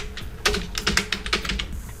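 A computer keyboard clatters in a quick, close burst of keystrokes as a short name is typed, in a quiet room.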